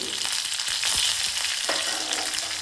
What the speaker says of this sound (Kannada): ಈ ಬೆಳ್ಳುಳ್ಳಿ ಚಟ್ಪಟ ಆದ ನಂತರ ಈಗ ಕರಿಬೇವನ್ನ ಸೇರಿಸ್ತಾ ಇದ್ದೀನಿ.